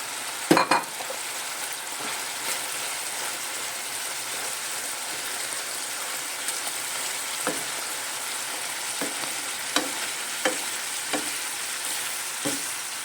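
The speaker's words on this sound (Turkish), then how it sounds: "Şöyle soğanını ekleyeyim." Onions hit a pan of chicken liver frying in its reduced juices, giving a steady soft sizzle with a few sharper stirring clicks and scrapes spread through, no voices over it.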